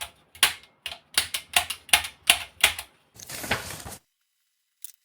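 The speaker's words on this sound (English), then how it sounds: "The band selector keyboard is checked to verify if the dial glass is correctly installed." Band selector keys on a 1958 Radiomarelli RD 198 valve radio clack down one after another, about eight sharp mechanical clicks close up, followed by a brief rustling scrape and a final faint click.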